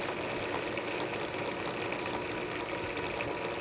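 A homemade dough mixer driven by a drill press with a rotating propane-tank bowl runs steadily, giving a loud, dense, constant mechanical whir and rattle with no breaks and no voices.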